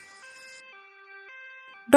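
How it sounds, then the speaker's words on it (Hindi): Cartoon ambulance siren in a Hindi bird story, a steady electronic two-tone wail alternating between pitches for about two seconds, moderately loud and alone, cut off by a sudden burst of another sound at the end. "एम्बुलेंस पीछे पीछे आ रही थी"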